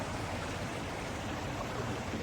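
Water surges steadily against a rocky seashore at night along Mumbai's Marine Lines, a dense, continuous wash of rushing surf that fills the whole moment without pause or voices.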